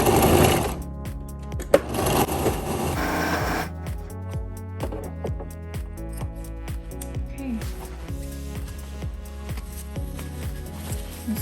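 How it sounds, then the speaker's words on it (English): A sewing machine stitches a half-inch seam on a box cushion for a van conversion, running in short repeated bursts. It is moderately close and fairly quiet, with faint voices at times. "I'm gonna sew the seam really good, and it's a 1/2 inch seam."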